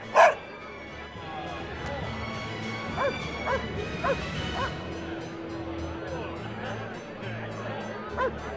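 A dog in the video game Tales of Berseria gives a handful of short barks and yips, spaced out over a steady bed of game ambience and music, with a louder yelp right at the start.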